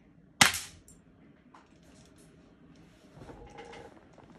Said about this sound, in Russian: Зарядили патроны. Сейчас будем стрелять.